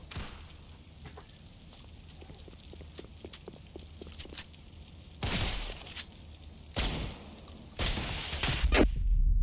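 Desert Eagle pistol shots in the video game Black Ops 4 Blackout: faint rapid footsteps and clicks, then several loud separated gunshot bursts with debris-like crackle, growing more frequent toward the end.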